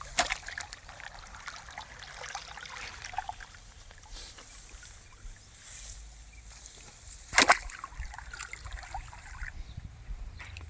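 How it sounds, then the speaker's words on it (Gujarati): Irrigation water trickles and splashes steadily through a wheat field, a soft continuous flow with one brief louder splash partway through. "આ આખા ઘઉંમાં આ ગોબરાદાએ જ પાણી વાળ્યું છે."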